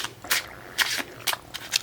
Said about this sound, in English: We'll shuffle these cards a little bit.